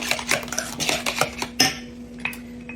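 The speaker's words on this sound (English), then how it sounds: "Stir it up." Cream of mushroom soup being stirred into a broccoli casserole mixture, a brisk run of spoon clinks and scrapes against the bowl, close and clear, with a steady low hum underneath.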